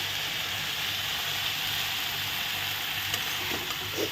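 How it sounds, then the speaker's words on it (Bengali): Freshly picked dhekia fern greens stir-fried in a pan, a loud continuous sizzle with hissing steam and occasional scraping as the leaves are tossed, no voices. "শাকগুলো দিয়ে আমি এখন ভালো করে একটু নেড়ে চেড়ে ভাজা ভাজা করে নেব"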